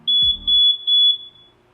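A smoke detector sounds three loud, sharp, piercing beeps in a steady rhythm, close and alone, as part of a web-based fire alarm system.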